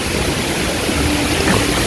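A waterfall at Cold Spring Resort in Carmen, Cebu, gives a loud, steady broadband rush of falling water, close and continuous, with no voices.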